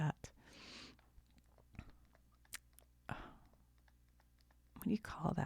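Someone chews a crunchy, puffy toffee-like candy similar to a Heath bar, producing a few close, crisp crunching bursts separated by quiet pauses, with soft clicks in between.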